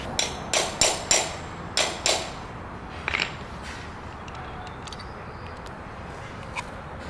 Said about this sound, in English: need to find a 1/4 inch drive, put in there and just tap it in